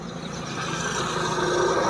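A vehicle passing on a highway running beside the sea, a steady broadband roar of tyres and engine that swells slightly as it nears, with no voices.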